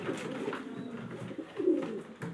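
Soft, low cooing of pigeons at a rooftop home loft, a gentle continuous burble close by with faint background hiss and no talking.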